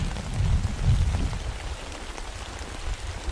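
Heavy, cold rain falling outdoors in fog, a dense steady hiss of drops spattering on surfaces with a rumbling low layer, close and continuous with no voices.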